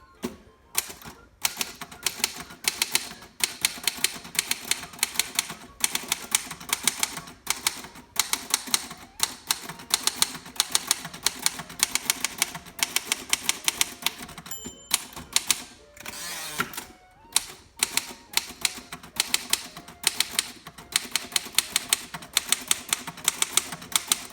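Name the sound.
typing on a 1936 Royal Model O typewriter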